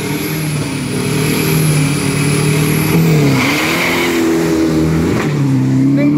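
Race car with a 2500cc engine, about 1500kg, on its first qualifying run at Khlong 5 racetrack, Thailand, engine roaring loud and continuous with rising revs and gear changes, no talk.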